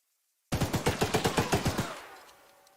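A mounted turret fires a rapid burst of about a dozen evenly spaced, loud shots in the Choo-Choo Charles video game, beginning abruptly after a beat of silence and trailing off into a short reverberant decay.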